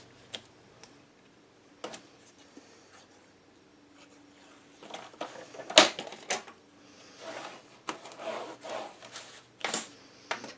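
Trimming patterned paper with a paper trimmer for a scrapbook mini album: scattered faint clicks and sliding scrapes, then a sharp cut and a run of brisk rasping strokes, close and quiet, with no voices.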